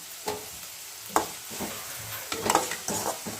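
Coriander is tossed into a pan of sizzling breakfast food, giving a soft steady fry with several sharp stirring scrapes and taps, quiet and close.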